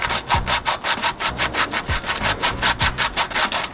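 Rust being scrubbed off the wheel hub of a 2011 Toyota Corolla during a front brake and rotor job: steady, rhythmic back-and-forth rasping strokes, close and loud, with no talking.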